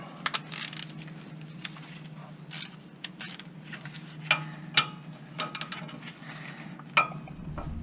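A ratchet torques down a bolt on a Nissan Frontier brake job, giving a few sharp metallic clicks over a low steady hum, with no talking.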